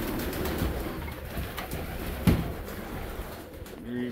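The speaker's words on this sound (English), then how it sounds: "homing pigeons." Saxon homing pigeons coo softly at a farm loft, a steady low murmur of several birds close by, with rustling and one brief louder knock partway through.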